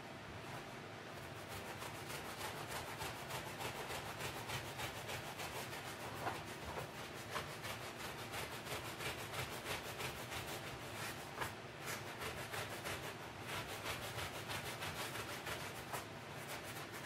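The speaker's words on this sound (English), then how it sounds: "When you're brushing and cleaning, go in crisscross pattern, diagonal, get all the directions so you work all of the fibers in all directions." An interior detailing brush scrubs damp car upholstery fabric in a steady, continuous close-up rasp, with quick back-and-forth strokes running through the whole stretch and no voices.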